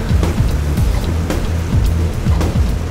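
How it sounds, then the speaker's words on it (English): Steady rain falls outdoors, a loud, dense, continuous wash of patter with occasional heavier thumps running through the whole stretch. "we definitely got rained out on this one"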